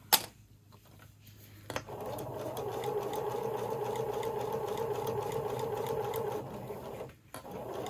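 A sewing machine stitches fabric for a menstrual pad, whirring steadily and close for several seconds after a few clicks, then stops briefly before starting again, with no voices.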